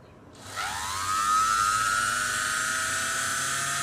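A Sew-Tric electric motor driving a sewing machine's flywheel whirs up from silence, its whine climbing quickly in pitch to full revs and then holding steady.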